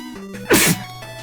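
A single sharp sneeze bursts out over quiet background tones from a Mega Man Maker game session, short and close, with no talk around it.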